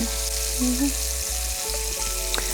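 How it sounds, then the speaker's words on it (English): Cajun shrimp sizzling in a pan after being flipped, a continuous sizzle over a low steady hum, with a few soft clicks and no talking. "we went ahead and flipped our shrimp, and now we're gonna cook those for 2 to 3 minutes on this side"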